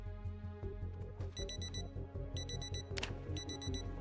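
Repeated electronic alarm clock beeps ring out in bursts inside the zombie survival game Project Zomboid, layered over a steady low background hum and music.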